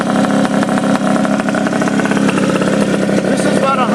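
A Honda Dio scooter fitted with a race pipe idles nearby, a loud steady buzzing putter with a slightly uneven pulse holding throughout.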